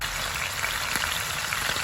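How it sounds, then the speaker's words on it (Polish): Scrambled eggs fry in olive oil with a steady, dense sizzle and crackle, close and even throughout this short stretch. "ja sobie pozwolę na poranną jajecznicę z jajkami smażoną na oliwie z oliwek"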